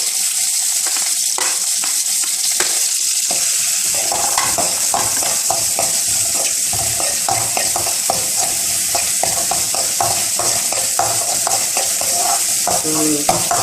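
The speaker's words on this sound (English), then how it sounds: "cumin seeds போட்டுக்கணும். அது பொரிஞ்சதும் வெங்காயம் போடணும்." Onions frying in oil with cumin seeds, steady sizzling joined by frequent spatula scrapes and clinks of stirring against the pan, close and fairly loud with no talking.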